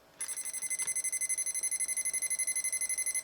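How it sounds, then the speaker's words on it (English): A mid-1990s Dragonzord toy runs on 2 AA batteries and gives off a shrill, electronic, alarm-like beeping, pulsing rapidly and evenly after a sudden start, close and piercing with no voices. "it is a great alarm clock noise"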